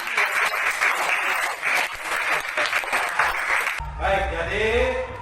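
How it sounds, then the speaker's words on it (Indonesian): Classroom audience applauding after a group discussion, dense steady clapping for about four seconds before it stops and a voice begins talking. "Mari kita berikan tepuk tangan untuk hasil diskusi."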